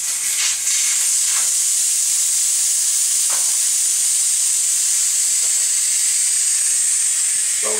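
Air hissing steadily out of a tire valve opened with a valve stem tool, a loud continuous close hiss lasting the whole stretch with a few faint clicks.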